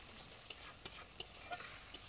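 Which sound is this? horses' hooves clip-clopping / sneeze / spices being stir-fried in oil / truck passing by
spices being stir-fried in oil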